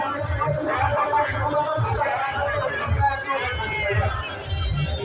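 A busy Chhath Puja gathering fills the air with dense, overlapping crowd chatter and murmuring voices. The babble is steady and close, with footsteps and movement mixed in.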